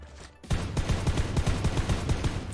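Gunfire in the mobile battle royale game Knives Out: a fast, steady burst of repeated shots starts abruptly after a brief quiet moment and keeps rattling close and loud to the end.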